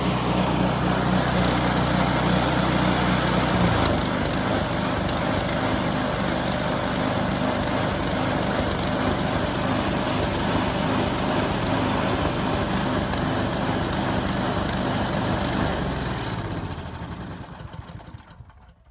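A snowblower engine runs after a cold start, a loud, steady small-engine drone that shifts pitch early on, holds evenly, then fades and cuts off near the end.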